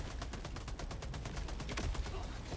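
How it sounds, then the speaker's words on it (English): Orbital barrage explosions in Helldivers 2 pound in a dense, rapid rumbling volley, with sharp blasts repeating steadily over a continuous low roar throughout. "Firing orbital barrage, clear the area."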